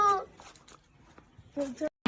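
A cat gives a couple of short meows, one at the start and one near the end, amid quiet background.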